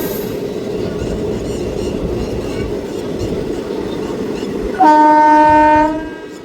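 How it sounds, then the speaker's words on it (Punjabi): A Ludhiana–Churu passenger train rumbles and clatters steadily on the rails while rounding a curve, then a loud horn blasts for about a second before fading under the continuing rumble. "ਸੱਪ ਵਾਲੀ ਚਾਲ ਤੇ ਜਾ ਰਹੀ ਹੈ ਟ੍ਰੇਨ"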